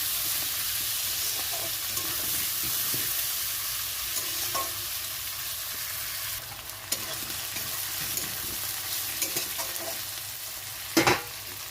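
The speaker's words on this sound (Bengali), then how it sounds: "পেঁয়াজটাও ভাজা হয়ে যাবে আলুটাও ভাজা হয়ে যাবে" Onions and potatoes fry in a pan with garlic and onion already browned, a steady close sizzle running throughout, broken by a few scraping stirs and a sharper clatter near the end.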